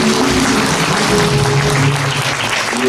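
Audience applauding a deputy mayor at a Buddhist temple year-end thanksgiving gathering, steady dense clapping filling the room throughout, with a faint sustained tone running underneath.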